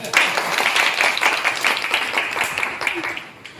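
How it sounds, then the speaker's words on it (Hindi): An audience at a business talk breaks into lively applause, close and uneven clapping that holds for a few seconds and then tapers off, with faint voices mixed in. "एक बार ताली हो जाए"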